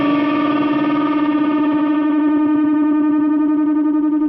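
Distorted electric guitar playing a bent note held slightly flat with a wah-wah pedal engaged, for a song, sustained and loud with an audible pitch wobble beating through it, no talk.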